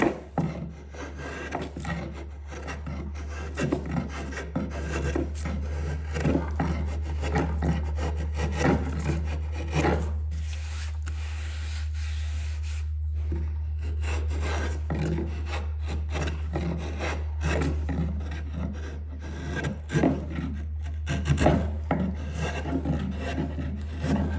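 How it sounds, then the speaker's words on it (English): An inshave drawn across wood, taking thin shavings in a steady run of close, rasping scrapes over a constant low hum, with brief pauses between strokes and no talking. "Notice I can just take a very thin shaving here."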